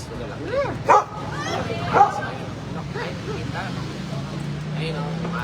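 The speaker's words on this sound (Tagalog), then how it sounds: "Ayan o, may aso." A dog barks and yips a couple of times at a distance on a street in Barcelona, with people talking throughout and a low steady hum underneath.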